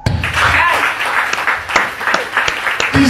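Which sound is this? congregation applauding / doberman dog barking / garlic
congregation applauding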